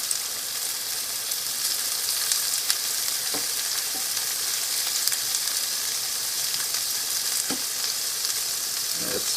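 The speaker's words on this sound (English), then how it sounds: "Can you hear the sound? Sizzling." A Doritos-crusted cheeseburger sizzling in a hot pan, steady close frying hiss with a few soft pops and stirring scrapes, alone without any talk.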